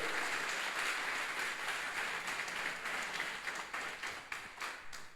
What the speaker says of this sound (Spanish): Denle ese aplauso de alabanza, hermano